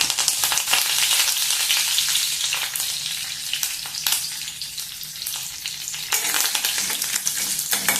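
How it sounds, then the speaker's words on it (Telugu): Cumin, mustard seeds, dried chilies and curry leaves sizzle in hot oil for sambar, a loud continuous crackling fry with brief stirring scrapes throughout. "కొద్దిగా జీలకర్ర, ఆవాలు, ఎండుమిర్చి, ఇప్పుడు కరివేపాకు."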